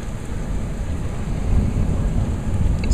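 A severe thunderstorm with hail in Bedford, Texas, gives steady heavy rain and a low continuous rumble of thunder, with no voices.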